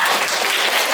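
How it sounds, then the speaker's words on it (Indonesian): A classroom of schoolchildren applauds three top-ranked students, making dense, loud, continuous clapping that fills the short moment with no pauses. "Tepuk tangan buat mereka bertiga."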